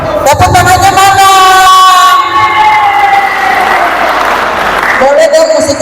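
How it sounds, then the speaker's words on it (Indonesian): A crowd at a family gathering claps and cheers in a noisy burst, mixed with music and overlapping voices. "tepuk tangannya mana"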